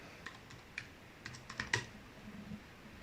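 Keys clacking on a computer keyboard, a handful of quick, quiet presses scattered across a few seconds, with a small flurry near the middle, heard alone with no voices.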